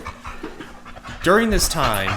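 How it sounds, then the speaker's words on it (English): A dog pants loudly and close by in quick rhythmic breaths, entering partway through after a stretch of a person talking. "That was the dog."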